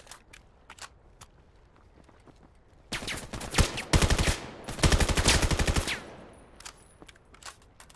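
Rapid bursts of automatic gunfire in a 1v1 shooter video game match, with scattered single shots and footstep clicks before two long, dense, loud volleys, then sparse shots trailing off.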